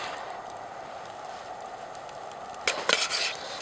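Quiet kitchen background in a winter hot tent, then a burst of scraping and clattering as a utensil is stirred hard around a pot of potatoes near the end.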